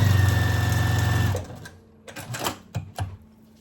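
A sewing machine stitches quilt scraps together, a fast, even mechanical whir close by that stops abruptly partway through, followed by a few scattered clicks and soft handling knocks.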